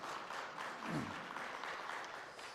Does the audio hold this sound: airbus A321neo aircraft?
no